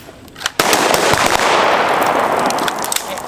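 Gunfire on a shooting range: one sharp shot, then a dense, continuous string of rapid loud shots at close range, with no voices heard.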